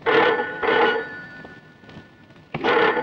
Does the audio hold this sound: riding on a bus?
no